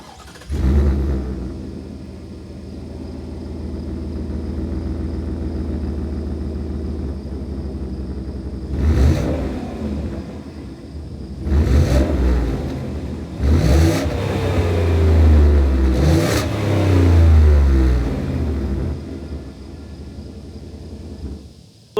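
A 2024 Ford F-150 Tremor with a 5.0 V8 and dual exhaust idles with a low rumble, then gives several sharp revs rising and falling, loud and close, with no voices.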